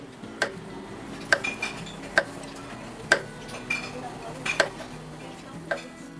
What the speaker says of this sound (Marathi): आता आपल्याला कारल्याच्या पातळ अशा फोडी कापून घ्यायच्यात